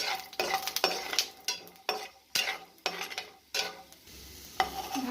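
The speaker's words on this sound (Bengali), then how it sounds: "এটা একটু হালকা করে ভেজে নিলাম বাদাম" Peanuts are lightly fried in a pan and stirred with a utensil. About a dozen rhythmic scraping strokes pass over a soft sizzle, close and loud, with no talking.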